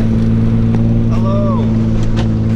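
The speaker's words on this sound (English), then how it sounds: "I'm driving through deep snow" A Nissan 300ZX with a newly installed one-piece drive shaft drives through deep snow, its engine a steady, close droning hum that holds level throughout, with faint wind noise on top.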